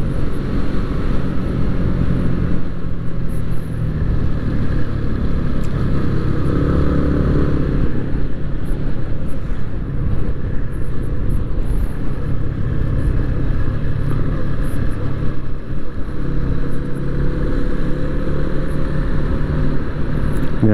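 A motorcycle rides along a road between Khlong Khon, Pran Buri and Kaeng Krachan, overtaking as it goes. Engine drone and wind roar run loud and steady throughout, with no talk.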